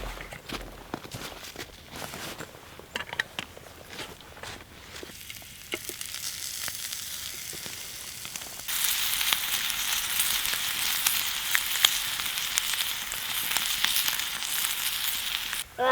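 Boiled wild muskrat meat frying in olive oil in a pan, a steady bright sizzle that swells louder about halfway through, with scattered clicks and shuffling handling noises before it.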